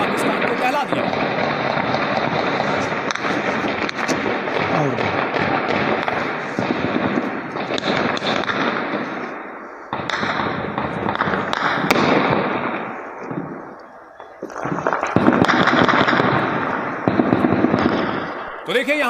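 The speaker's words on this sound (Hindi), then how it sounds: "यहां धमाके के साथ साथ गोलियों की आवाज भी सुनाई पड़ रही है" Explosions and gunfire erupt during an attack in Pakistan: loud, dense bursts of rapid shots and blasts go on almost continuously, with a short lull, and voices are heard among them.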